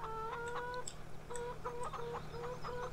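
Chickens in the Farming Simulator 17 video game cluck in short repeated bursts, a steady low hum running underneath, moderately loud, with no talking.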